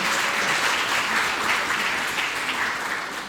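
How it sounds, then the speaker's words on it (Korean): Concert audience in Daegu applauding factory workers fighting to return to their jobs, a full, loud burst of clapping that continues steadily and eases slightly toward the end. "일터로 돌아갈 수 있기를 바라는 마음으로 박수를 드립니다"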